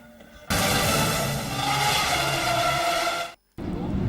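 A racing motorcycle at an endurance championship round at Albacete, driven hard down the track: a loud, sustained high-revving engine roar close by, cutting off briefly before resuming.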